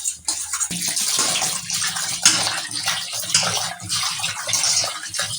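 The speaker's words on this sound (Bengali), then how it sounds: "লবণ দিয়ে ধুয়ে নেব ভালো করে" Fresh fish being washed with salt under running water, a steady close splashing and gushing of water with rubbing sounds throughout, no talking.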